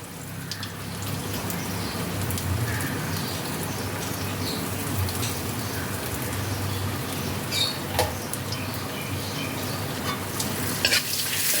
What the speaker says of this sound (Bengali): এবার আমি এর মধ্যে দিয়ে দিচ্ছি আদা বাটা